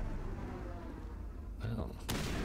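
Sniper fire in Mass Effect, a couple of sharp booming shots near the end, preceded by a low rumbling game backdrop, with someone speaking over it.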